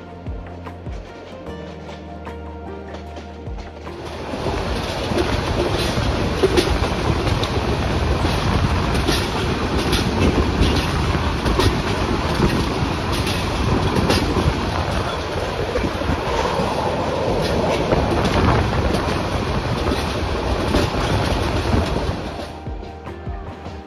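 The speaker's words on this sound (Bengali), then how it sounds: "আমাদের ট্রেনটি এখন ঢাকা তেজগাঁও রেলওয়ে স্টেশনের পর সরাসরি ঢাকা বিমানবন্দর রেলওয়ে স্টেশনে যাত্রাবিরতি করবে" Passenger train running on rails through Dhaka between Tejgaon and Dhaka Airport stations: a quieter start, then a loud, steady rolling rumble with clickety-clack rhythm that fades again near the end.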